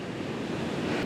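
Sea waves washing at Brother's Point on the Isle of Skye make a steady, full rush of surf with wind buffeting the microphone, continuous and fairly close throughout.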